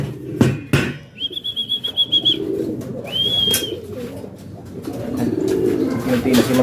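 Pigeons entering a loft give repeated soft cooing and whistly calls, with two short pulsing bursts at close range, while someone talks over the birds.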